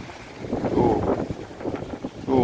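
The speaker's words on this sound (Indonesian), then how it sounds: "Anginnya heboh sekali, ombaknya seperti laut ya." Strong stormy wind gusting over a canal at Kalimalang with choppy waves, a steady roar of wind buffeting the microphone and splashing water throughout, with faint voices in the background.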